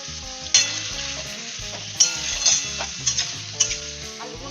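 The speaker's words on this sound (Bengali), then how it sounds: "আলুগুলোকে ভালো করে ভেজে নেব" Spiced potatoes frying in oil left over from frying paneer, a steady sizzle broken by several sharp clinks and scrapes from a spatula stirring in the pan.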